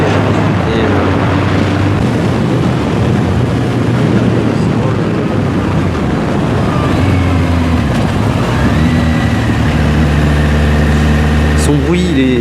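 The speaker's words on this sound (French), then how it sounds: "Le bruit du SC Project est vraiment propre." A Kawasaki Z800e motorcycle with an SC Project aftermarket exhaust runs steadily, its engine giving a continuous, loud, rough drone throughout with a slight change in pitch toward the end.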